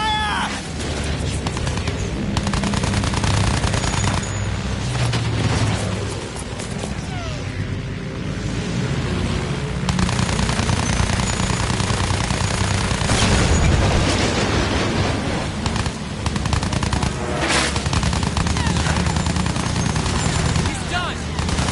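Battlefield 1 gunfire of sustained machine-gun bursts and booming explosions fills a chaotic battle soundscape, with shouted voices heard under the continuous loud din.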